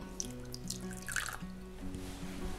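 Cold water runs into a small bowl of gelatin, a thin trickling pour with light splashes and a faint hum in the background, with nobody speaking.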